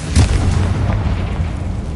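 Confringo spell blast in the Hogwarts Legacy video game, a loud deep boom at the start that fades into a rumbling low tail, heard alone.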